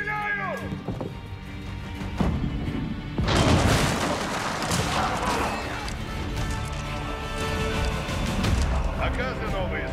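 Battle sounds from Age of Empires IV: a dense, continuous clash of booms, cracks and impacts, with a heavy burst of firing around the middle, running under in-game unit voices throughout.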